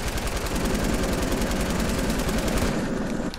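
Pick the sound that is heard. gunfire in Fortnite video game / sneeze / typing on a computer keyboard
gunfire in Fortnite video game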